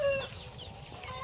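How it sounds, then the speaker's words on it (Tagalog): Loose chickens on a farm let out a brief cluck or two near a coop, a short, moderately close call fading quickly into quiet. "At may mga nakawalang manok."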